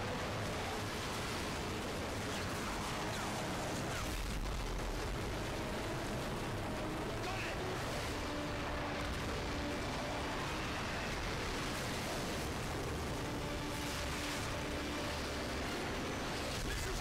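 Rafts rushing across water in Modern Warfare 3 on the Wii, a constant loud wash of broadband water and engine noise that stays steady throughout without clear breaks.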